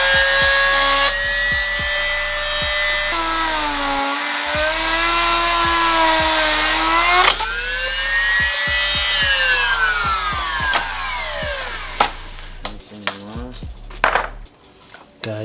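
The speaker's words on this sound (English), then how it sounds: "I had to cut the step away to fit it properly into the climate control" A power tool saws through a plastic mounting step on a Honda EK dashboard, a loud continuous whine that rises and falls in pitch as the cut bites, then stops into a few short scrapes and knocks.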